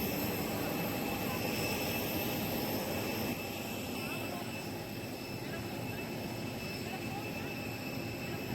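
A large jet airliner at Jaipur international airport produces a steady, loud engine roar and whine that holds without pause, with people talking faintly underneath.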